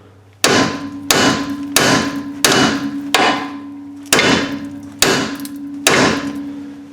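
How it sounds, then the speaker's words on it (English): Eight sharp hammer blows strike metal at a roughly even pace, each loud impact ringing briefly before the next, knocking a seized sway bar bushing off a Jeep. "you can probably just hammer this off."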